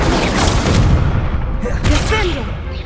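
An Incendio fire spell blasts in Hogwarts Legacy, with loud, dense rumbling bursts of flame and impact filling the moment and a second surge near the end, mixed with combat voices.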